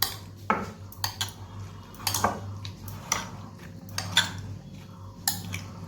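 Tomatoes and green chilli being mixed in a bowl for chola chaat, a spoon knocking against the bowl in scattered sharp clinks among soft scraping, close and fairly quiet.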